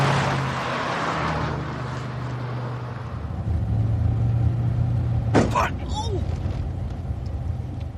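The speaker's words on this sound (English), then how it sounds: "these 2 witnesses watched the car chase pass them by" Vehicles in a night police car chase roar past on a road, a sustained loud engine rumble swelling as they go by, with a sharp brief burst midway.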